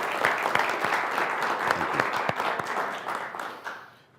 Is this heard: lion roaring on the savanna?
no